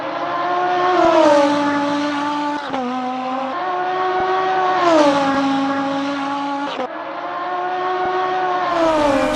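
A Reuter Engineering Rex Gallardo GT3 race car in Assetto Corsa roars loudly through the gears, its engine pitch climbing and dropping with several upshifts and a brief downshift, heard alone with no talk.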